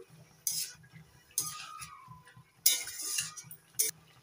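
A spoon clinks and scrapes against a pot while mustard juice is mixed into a spring dish of drumsticks and bitter gourd, giving four crisp metallic knocks over a soft, steady stirring rattle, close up with no talk.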